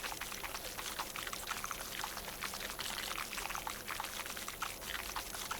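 Steady hissing water spray from a pressure washer in PowerWash Simulator, a continuous broadband gush with faint flickering texture, constant level throughout and no talk.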